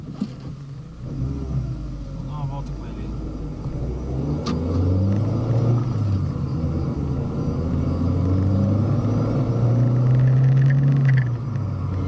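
A worn Volkswagen Polo engine labours while driving, a steady low rumble that rises and falls with revving, close and continuous with no talk over it.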